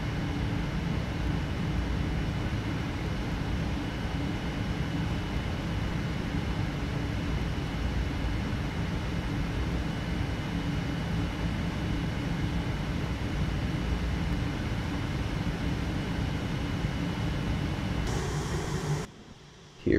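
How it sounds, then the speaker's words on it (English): Steady, loud engine drone of a Boeing 787 taxiing toward the runway in a flight simulator, a continuous broadband hum with no talking that cuts off abruptly at the end. "Here we are, cruising towards the runway."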